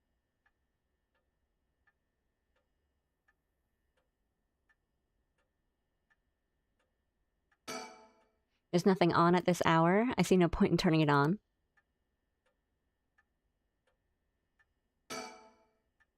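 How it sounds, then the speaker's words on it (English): Faint, regular clock ticks in a quiet room in the video game Paranormasight, about one per second throughout, with people talking and a couple of short clicks partway through. "The ticking seems so loud,"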